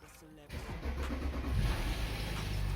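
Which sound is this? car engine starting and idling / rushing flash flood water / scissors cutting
car engine starting and idling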